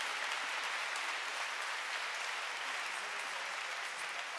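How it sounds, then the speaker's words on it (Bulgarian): Concert audience applause at a full concert with the Sofia Philharmonic Orchestra, a sustained, dense crowd clapping that holds evenly for several seconds. "Аплодисменти за зърница Слава."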